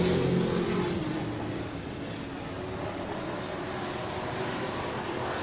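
Race cars roar around Penticton Speedway in a continuous loud engine drone, several cars blending together, slightly heavier at the start before settling into a steady wash of revving.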